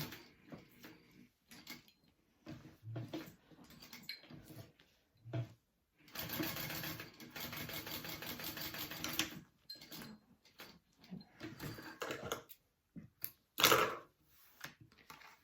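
A home sewing machine top stitches a pressed seam in short bursts, with a longer sustained run of whirring stitches in the middle, quiet handling clicks and pauses between.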